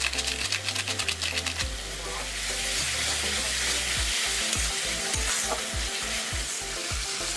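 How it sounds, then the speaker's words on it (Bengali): Spice masala sizzles and fries in oil with chili powder for chicken biryani, loud and continuous, with a steady rhythmic scraping of stirring strokes running through the close sizzle and no clear talking. "ভালো করে মশলাটাকে আমি কষে নেবো"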